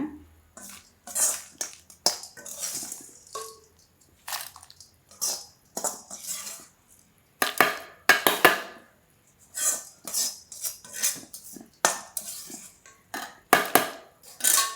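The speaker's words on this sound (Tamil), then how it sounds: "நம்ம இதை எடுத்து மிக்ஸி ஜாரில் போடலாங்க." Close, repeated clinks and scrapes of a spoon against a metal mixer jar as drumstick-leaf powder ingredients are tipped in, in short bursts separated by brief pauses.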